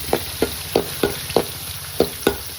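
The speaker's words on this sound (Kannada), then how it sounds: "ಈರುಳ್ಳಿ ಫ್ರೈ ಮಾಡ್ಬೋದು" Chopped onions fry in a hot pan for a Kannada-style chicken dish, with stirring scrapes repeating roughly every third of a second over a steady sizzle. It is close and fairly loud, with no talk.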